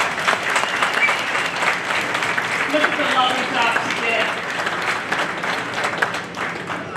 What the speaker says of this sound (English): So please, a round of applause for Rachel and her colleagues.